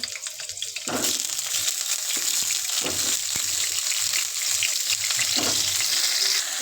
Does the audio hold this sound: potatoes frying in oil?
yes